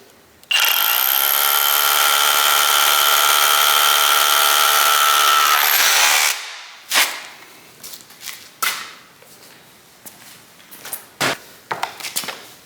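Flex SDS rotary drill boring a 5/8 inch hole, loud steady whine for about six seconds, then short bursts and knocks as it finishes, close and without talk.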